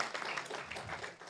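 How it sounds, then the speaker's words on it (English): Brief, faint round of applause from the audience at a City of Carson council meeting, a soft steady patter of hand claps with a little talk mixed in. "Let's give them another round of applause."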